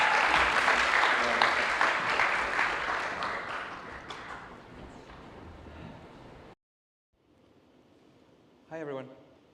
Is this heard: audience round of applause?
yes